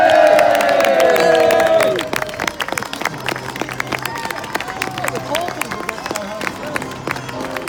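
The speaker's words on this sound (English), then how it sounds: "As they leave the field, give them a big cheer." Large outdoor crowd cheering and clapping as teams leave the field at a parade ground event, loud and dense at first with a steady tone, then thinning into scattered applause and a lingering crowd murmur.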